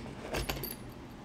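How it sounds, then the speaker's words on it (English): A bunch of keys on a collector's edition keychain jangles briefly up close, a quick metallic rattle of a few bright clinks lasting about a second. "these are some keys attached to this keychain"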